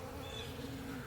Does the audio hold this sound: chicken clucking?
no